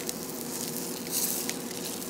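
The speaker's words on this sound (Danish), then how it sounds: "Og igen, lad den stå og stege" A 200 g US beef tenderloin steak fries in oil in a pan, giving a steady, close, even sizzle throughout.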